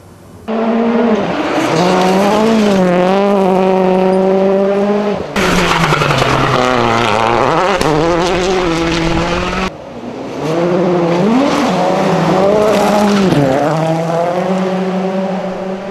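A rally car engine roaring loudly and continuously, revs rising and falling through gear changes, heard up close across several passes.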